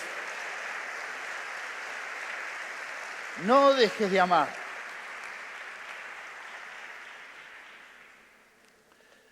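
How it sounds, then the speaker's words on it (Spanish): A church congregation applauds after a sermon, steady clapping running throughout and slowly fading out toward the end, while someone speaks briefly over it. "Le damos un aplauso al Señor."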